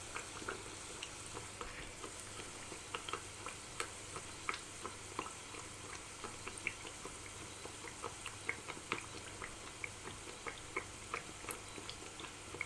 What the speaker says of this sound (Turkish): Ve kızartmaya devam edelim.